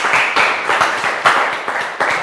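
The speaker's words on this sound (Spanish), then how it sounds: "Denle un aplauso en casa," A church congregation applauds during a sermon, a steady wash of many hands clapping with rhythmic pulses running throughout, loud and continuous with no talking.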